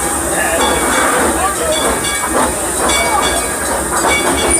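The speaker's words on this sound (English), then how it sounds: "make sure you keep all parts of your body inside the train while we are in motion." Steady loud rumbling and hissing of an amusement park train rolling along at Six Flags Over Texas, with faint rhythmic clacking throughout and no pauses.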